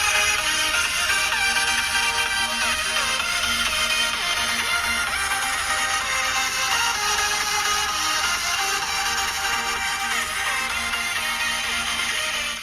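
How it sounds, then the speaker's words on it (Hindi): Stereo speakers of a Huawei flip phone playing audio, a steady, bright stretch of music with sustained tones, moderately loud and continuous, with no talking. "ये दोस्तों स्पीकर्स वाले फोन के ऑसम साउंड निकल के आ रहा है यहाँ पर"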